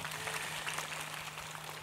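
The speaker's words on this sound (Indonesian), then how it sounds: "Tepuk tangan untuk Letkol Teddy." Audience applause at an Indonesian public gathering, a dense, even patter of clapping sustained throughout without a break.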